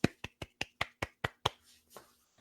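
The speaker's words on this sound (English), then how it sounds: "Golf clap." Eight slow, evenly spaced single claps from one person, close and crisp, then two softer trailing claps; a sarcastic golf clap with no talk.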